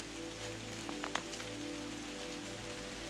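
Steady rain patters on a surface outdoors in Kilbroney, County Down, a soft continuous hiss with a few brief louder drops, fairly quiet and with no voices.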